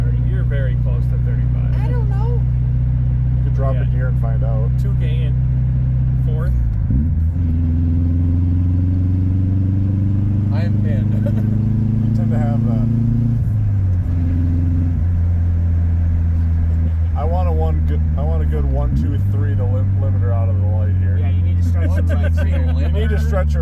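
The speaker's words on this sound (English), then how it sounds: "First gear to limiter, second gear to limiter, third gear to limiter." A car engine accelerates hard through first, second and third gear to the rev limiter, its pitch climbing steadily in each gear and dropping sharply at every shift, loud and close throughout.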